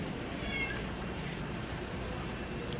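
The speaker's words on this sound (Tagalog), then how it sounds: "Meow, meow." A cat meows a couple of times, faint and thin against a steady broadband background hiss.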